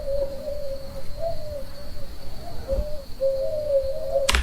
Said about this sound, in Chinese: 猫头鹰在风中叫